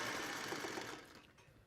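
A sewing machine runs a short burst of stitching on a quilt block, a fast whirring chatter that fades out as it stops.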